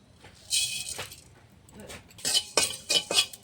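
Coriander and cumin seeds dry-roasting in a pan, stirred so they rattle and scrape against the metal in uneven bursts, with soft clinks and a noisy hiss between.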